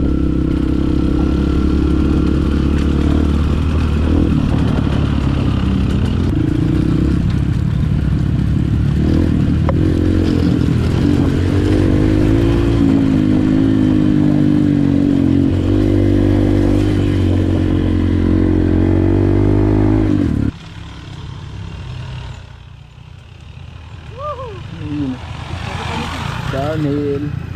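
A loud motorcycle engine drones steadily as the bike rides along a rough trail in Tacadang a week after a storm, then cuts to quieter wind and brief speech near the end.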